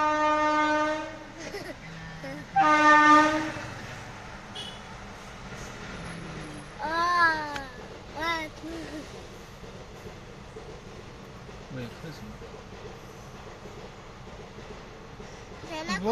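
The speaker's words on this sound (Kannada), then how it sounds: "ಟ್ರೈನ್" A passing train sounds its horn in several loud tonal blasts, one long burst early and more blasts around the middle, over a low rumble of rolling wagons that fades to steady background.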